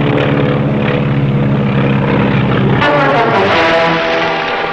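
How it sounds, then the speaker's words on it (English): A World War II propeller aircraft peels off overhead, a loud sustained droning engine roar that shifts pitch partway through as it passes close by. "Plane peeling off."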